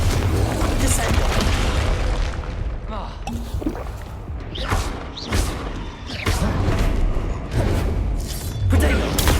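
Spells crackle and detonate in Hogwarts Legacy combat, a dense run of booming blasts, whooshes and thuds one after another, loud and continuous with a muffled voice mixed in.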